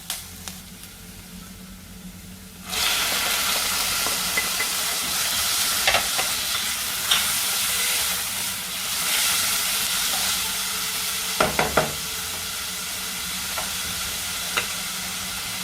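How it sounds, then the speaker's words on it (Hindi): Tomatoes drop into a pan of onions and a loud, continuous sizzle with steamy hiss starts abruptly, broken by occasional spoon scrapes and clatter against the pan. "अब हम इसमें टमाटर डाल देते हैं।"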